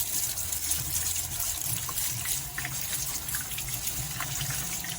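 Water poured over orchid flowers in a new bucket during dyeing of white orchids, a steady close splashing gush that runs throughout without pause.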